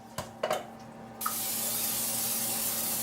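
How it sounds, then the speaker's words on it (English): Pam cooking spray hisses onto a casserole pan, a few short clicks and puffs followed by a long steady close spray lasting to the end. "you're going to want to spray your pan with Pam"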